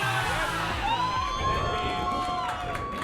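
A large live audience at a Philadelphia bar game show shouts back in unison, a loud burst of crowd voices and cheering carrying throughout with a brief ringing tone partway through.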